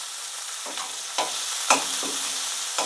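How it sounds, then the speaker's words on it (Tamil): Onions frying with chilies, curry leaves, mustard seeds, urad dal and cumin in a pan: a steady sizzle with a few sharp stirring scrapes spaced through the passage, close and moderately loud, with no voices. "வெங்காயம் ஒரு நிமிஷம் நல்லா வதங்கட்டுங்க"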